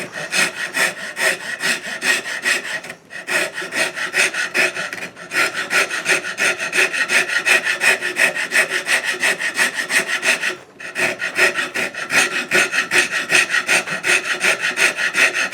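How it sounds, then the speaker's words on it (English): A rasp scrapes a wooden Pinewood Derby car in fast, steady rhythmic strokes, loud and close, pausing briefly a few times before resuming. "This rasp has two sides, a coarse side and a smooth side."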